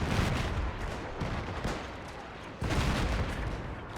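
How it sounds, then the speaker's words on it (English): Dense, continuous rumbling gunfire and artillery on a World War I battlefield in the game Between Empires: a steady wall of distant booms and crackling shots with no break, rising again in a fresh surge near the end. "someone needs to re-coordinate the artillery because they're shooting at our own troops at this point"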